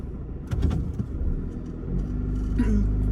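A manual-transmission car rumbles low and steady while driving, with a few knocks and a brief engine rise, as people talk quietly over it.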